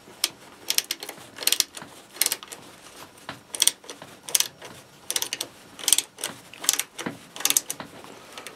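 Flat ratcheting wrenches tightening bolts while a telescopic support is assembled in a workshop, giving repeated short bursts of close, sharp clicking in an uneven rhythm with brief pauses between strokes.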